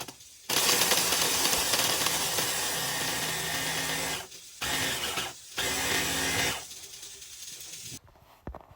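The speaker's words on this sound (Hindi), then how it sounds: "अब इसको मैं डाल दूँगी ब्लेंडर में और इसका बना लूँगी पाउडर" A kitchen blender grinds three candy biscuits into powder, running loud and steady for several seconds with two brief pauses before winding down, no voices over it.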